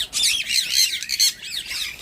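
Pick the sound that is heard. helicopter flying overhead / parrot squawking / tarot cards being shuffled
parrot squawking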